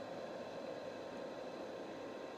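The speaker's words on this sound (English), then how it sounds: "this white noise machine is by Accumed" An Accumed white noise machine runs with a steady, even hiss that never changes in level, fairly quiet and alone with no voices.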